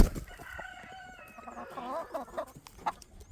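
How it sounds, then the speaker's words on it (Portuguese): Hens cluck and chatter busily close by, with a rooster's calls mixed in, a lively overlapping barnyard commotion. "as galinhas correm tudo para cima do galo"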